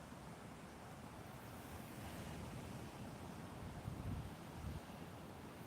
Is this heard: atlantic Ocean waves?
yes